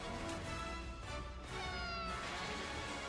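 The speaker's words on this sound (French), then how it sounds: "C'est bon, il y a un petit chat." A cat meows in a JRPG game trailer, several soft cries heard under dense, continuous music.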